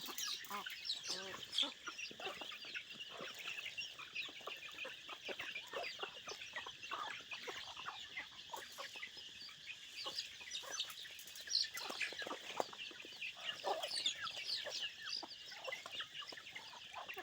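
Small chickens cluck steadily in a farmyard, with quick overlapping clucks and chirps at close range running throughout, over a constant bright background chorus of birds or insects.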